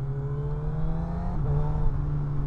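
A motorcycle engine revs close by as its quickshifter clicks through gear changes up and down, the tone holding steady, then dipping and shifting around mid-clip with a slight rise in loudness.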